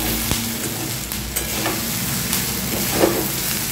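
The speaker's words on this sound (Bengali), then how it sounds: "যে ভেজে কমছে তার জন্য ফটফট করে আওয়াজ হচ্ছে, ফাটছে।" Bread bhelpuri ingredients fry in white oil, giving a dense, close, steady sizzle with scattered crackles and pops and a low background hum, with no talk.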